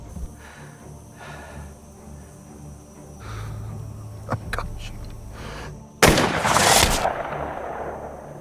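A sniper rifle shot in a thriller movie recap rings out as one sharp, loud blast with a brief roar after it, following quieter rumbling and faint clicks.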